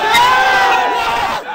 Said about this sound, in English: Take a look around you at this crowd.